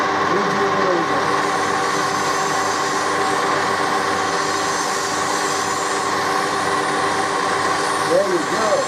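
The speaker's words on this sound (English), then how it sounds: "Oh, it's drilling. It's drilling. Would you believe it?" An electric drill runs steadily while boring a 3mm hole during antique repair work, giving a continuous, fairly loud motor drone with a constant pitch and no clear pauses.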